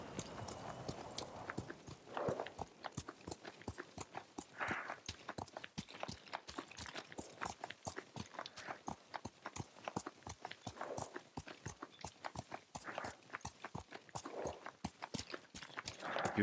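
A horse's hooves clip-clop in a steady, even rhythm for the whole stretch, close and clear, with a faint voice at times, in the video game Ghost of Tsushima.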